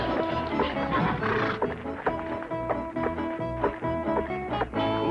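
A horse in a classic Western TV comedy lets out harsh whinnying neighs with some clip-clop hoofbeats, heard fairly close amid other sitcom scene sound.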